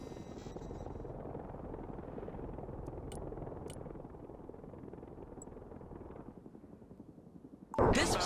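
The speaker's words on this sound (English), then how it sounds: "send in the F-15EX now" An F-15EX jet arriving in the video game Broken Arrow, a steady low engine rumble that holds for several seconds and then tapers off, followed by a sudden loud burst of noise at the very end.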